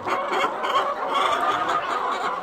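Several hens in a poultry house cluck and murmur steadily nearby, a continuous busy chatter with no other sounds.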